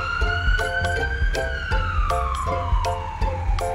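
A cartoon ambulance siren wails continuously and loudly, its tone sliding slowly up and then down, with regular rhythmic pulses throughout and no talking.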